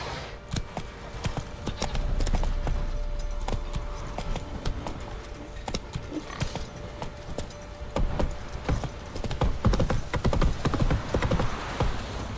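Roach the horse trots through The Witcher 3 with a steady clip-clop of hooves and faint jingling tack, a continuous mid-level rhythm running the whole way without talk.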